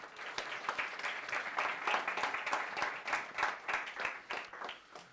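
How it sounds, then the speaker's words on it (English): Small meetup audience giving a quick round of applause, a modest group of hands clapping with distinct individual claps audible, fairly faint and continuous for several seconds. "So a quick round of applause for John, please."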